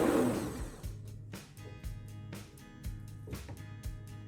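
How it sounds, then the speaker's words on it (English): A blender runs on watermelon flesh, blending it into juice, with a steady motor whir broken by repeated surging pulses as the blade churns, close and fairly loud without any talk. "place all the watermelon flesh into a blender and blend until smooth and juicy"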